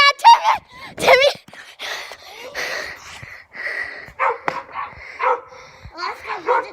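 Dogs bark and yip in short, uneven bursts at close range, with a whimper or two between them, while people talk throughout.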